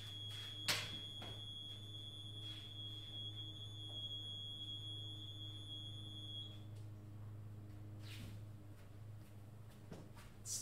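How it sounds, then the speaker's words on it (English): A home alarm system sounding off indoors: a steady electronic buzzing drone with a high beeping tone that cuts off partway through, plus a few faint clicks and knocks, fairly quiet overall. "It's the most prude alarm system I've ever seen."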